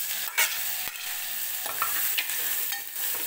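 Spice paste and curry leaves fry in a pan with cumin, giving a continuous bright sizzle punctuated by several sharp spatula scrapes and clicks; no voices.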